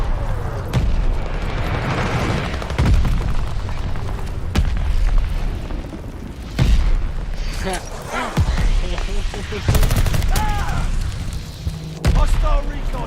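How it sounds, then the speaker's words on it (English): Booming dive-bomb explosions and bursts of gunfire in the video game Call of Duty Modern Warfare 2, a dense, continuous battle din with repeated heavy blasts, some near and loud, and radio-style voice callouts over it. "Enemy's got a dive bomb incoming."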